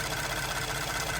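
A Ford F-150 engine at idle, whose low oil pressure is said to bring on a normal ticking. A steady, even mechanical ticking and whir runs without a break at moderate level, and no one speaks.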